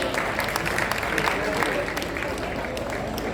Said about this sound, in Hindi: सभी जोरदार करतल ध्वनियां करेंगे।